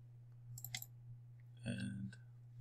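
A few sharp computer mouse clicks come close together near the start over a steady low electrical hum, followed by a short stretch of faint voice-like sound.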